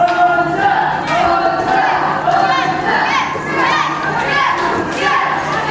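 Crowd at a live UKW wrestling show shouting and cheering steadily, with many high children's voices mixed into a continuous, evenly loud roar.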